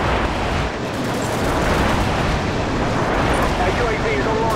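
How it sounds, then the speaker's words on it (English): Airstrike explosions in a video game: a continuous heavy rumble of blasts and rolling booms, loud and close, with a voice talking over the barrage. "Airstrike on the way."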